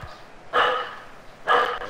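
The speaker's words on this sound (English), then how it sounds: "Barking." A dog barks twice in a Pro Clubs football video game, two short, fairly loud barks about a second apart over quiet background.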